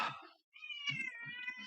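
A domestic cat perched on a bathroom sink gives a short meow, pauses, then lets out a longer, drawn-out wavering meow, close and clear in a quiet room.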